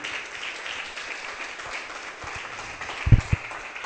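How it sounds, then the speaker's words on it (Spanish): A church congregation gives a sparse, fading round of applause, a soft wash of clapping with a few louder claps near the end. "Den un aplauso al Señor."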